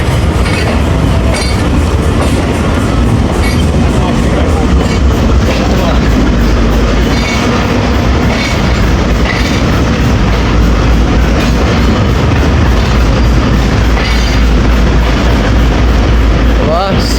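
Karachi Express passenger train running between Multan and Lahore, a loud continuous rumble of wheels on rails with steady clickety-clack and rattling carriages throughout.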